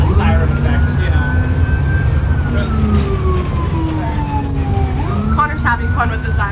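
A fire truck siren wails close and loud on a junior firefighter's emergency call, its pitch sweeping slowly up and down and then switching to faster yelps near the end, over a constant engine rumble.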